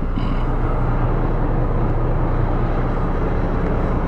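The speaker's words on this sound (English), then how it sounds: "Now the engines are running." A yacht's engines idle after start-up, a loud, steady low rumble with a dense even drone and no change across the stretch, no voices.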